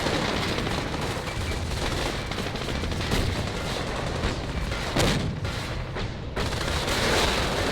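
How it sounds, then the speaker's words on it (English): Dense, continuous rolling barrage of Katyusha rocket artillery and gunfire in a Company of Heroes 4v4 battle, loud and sustained throughout with a few heavier booms standing out. "Meanwhile, over here, the Katyushas are firing away."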